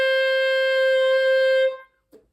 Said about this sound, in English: that will give you a high D